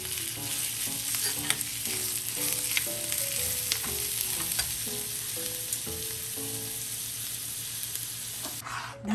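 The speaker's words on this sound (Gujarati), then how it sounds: "વઘાર કરેલો બધો નાખી દેવાનો." Hot tempering poured into mixed dal, a continuous close frying sizzle with stirring clatter throughout, ending in a short sharp burst, with no voices.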